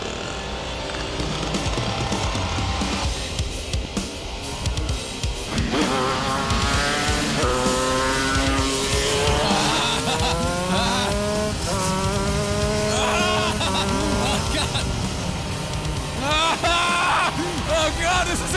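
A shifter go-kart engine screams at speed, its high buzzing note climbing and dropping repeatedly through upshifts and downshifts, loud and close, with someone shouting excitedly over it.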